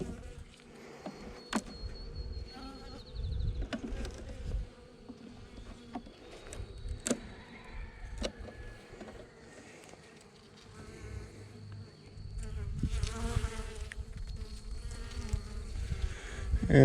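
Honeybees buzzing steadily around an open hive during an inspection, a dense close drone with individual bees swelling past, plus occasional sharp clicks and knocks from handling frames.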